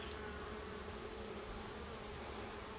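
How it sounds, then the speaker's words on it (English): Steady faint buzzing of many bees beside a small creek on the Pacific Crest Trail, continuous and low with no voices. "Excuse me, bees. You can have your little creek back."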